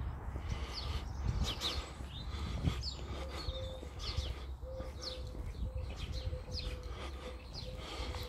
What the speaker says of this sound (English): the birds singing, making noises, chirping away